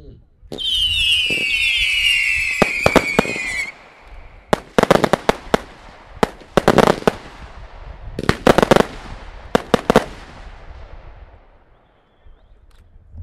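A Burning Salvo fireworks cake fires at an outdoor fireworks demonstration, opening with a rising whistle and then a rapid series of loud sharp shots in quick bursts, with a voice talking underneath.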